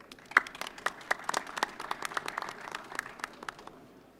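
Scattered audience applause at a defense technology conference theater, a modest crowd clapping unevenly and fairly faintly for a few seconds as a panel moderator is welcomed, with no talk over it.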